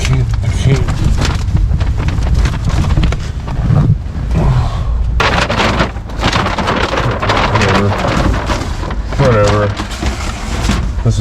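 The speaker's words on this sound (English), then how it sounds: "It's super windy out there." Loud, constant rumbling wind buffeting the microphone, a dense low roar that persists throughout with brief shifts in intensity.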